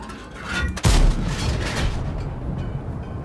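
A single heavy tank cannon blast booms close and loud in World of Tanks, followed by a rumbling decay and low background engine noise.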